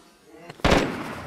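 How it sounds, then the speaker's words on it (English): Gunfire in DayZ, a survival shooter, bursting in loud and near after a brief quiet lead-in, with a sharp onset followed by a sustained roar of shots and echo. "Oh, we're getting shot at!"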